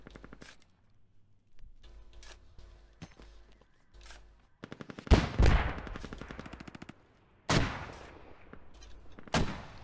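Bursts of automatic rifle and machine-gun fire from the military shooter Squad, with scattered single shots first and then several loud, close volleys that ring out alone.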